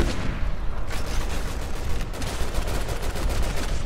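Heavy gunfire in the Resident Evil 6 video game, dense continuous bursts of shots and booms layered over one another, loud and relentless for the whole stretch with no voices.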